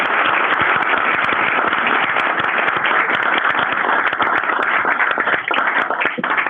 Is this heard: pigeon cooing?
no